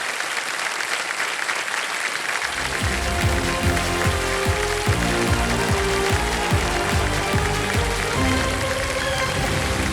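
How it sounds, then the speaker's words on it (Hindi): Studio audience on a TV quiz show breaking into loud, sustained applause after a brief quiet start, the close clapping underscored by pulsing music beats. "तालियां बज जाएं इनके लिए"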